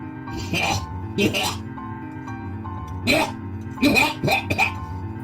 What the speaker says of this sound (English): What are you coughing for? I have allergies.